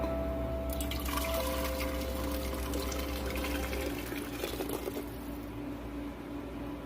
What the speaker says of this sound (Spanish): se la vamos a agregar a la olla express que tiene ya el medio litro de agua. Vamos a ir agregando la salsa.